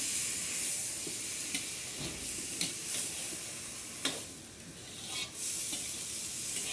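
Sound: stirring tomato and onion chutney in a pan

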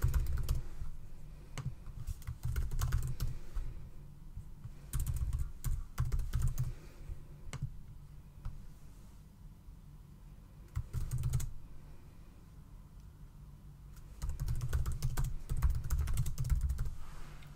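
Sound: typing on a computer keyboard

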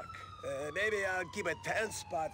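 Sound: police car siren in GTA IV video game

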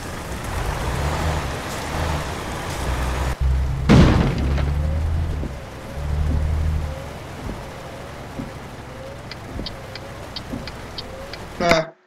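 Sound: truck collision crash in Euro Truck Simulator 2 video game

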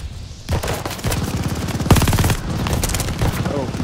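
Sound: gunfire in Call of Duty Vanguard video game

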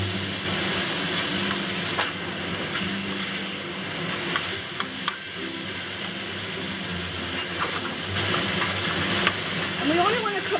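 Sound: beef frying in a pan with dark soy sauce

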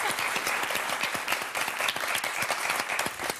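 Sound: studio audience applause

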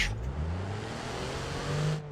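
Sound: car launching and accelerating during a suspension test

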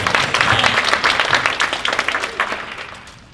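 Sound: audience applause

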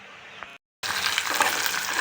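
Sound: tempering spices frying in oil

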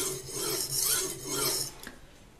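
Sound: freehand knife sharpening on a whetstone

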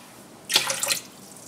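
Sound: cold tap water running

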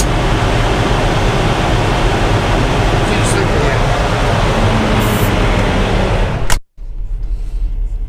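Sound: Freightliner truck engine roaring in regen mode

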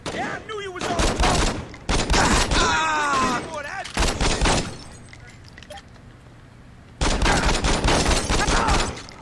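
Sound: gunfire in the video game Saints Row

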